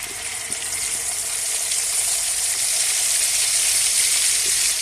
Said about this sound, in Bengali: এবার আমি এই তেলের সঙ্গে আরেকটু তেল দিয়ে দিব এখন আমি দিয়ে দিব এক চামচ আদা রসুন বাটা